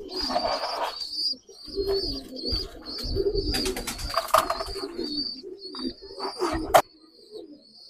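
A male Pakistani pigeon in a loft farm coos in repeated throaty phrases, close and fairly loud, with other birds chirping and twittering around it.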